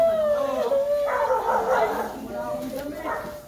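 A trapped cat lets out drawn-out, wavering wails, its plaintive cries rising and falling close by while people talk over it.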